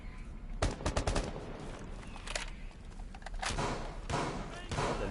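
Gunfire in Rainbow Six Siege during a championship match: rapid bursts of shots and thuds come in clusters, loud and close, mixed with brief game noise.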